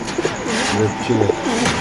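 Red Shekhar pigeons in a cage coo in low, soft repeated phrases, close by, with someone talking over them.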